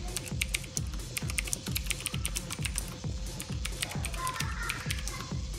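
Rapid clicky keystrokes on a Lindon-Tech Bluetooth mechanical keyboard with retro vintage round keys, a steady close stream of sharp taps with faint voices in the background.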